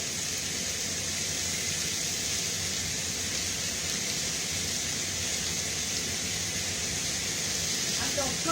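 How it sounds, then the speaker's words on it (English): Water from a kitchen tap runs steadily while a tomato is washed under it, a constant close hiss of flowing water with faint handling at the end. "So I'm gonna wash my tomato now"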